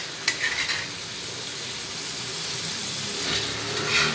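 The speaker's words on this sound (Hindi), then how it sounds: "अब इसको तेज़ आंच पर फ्राई कर लेना है मसाले के साथ।" Mushka fish fries with spices on a tawa over high heat, a steady close sizzle with a few soft stirring scrapes near the start and end.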